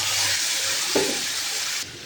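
Black cumin, white cumin and torn green chillies sizzle in hot oil for a hilsa curry, a steady close frying hiss with one brief stirring stir near the middle and no talking.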